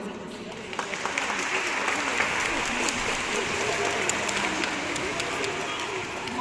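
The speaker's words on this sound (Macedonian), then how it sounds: "Да ги охрабриме во тие први чекори со еден топол аплауз" A school audience claps warmly to welcome first-graders on their first day, broad sustained applause filling the space from start to finish at steady strength.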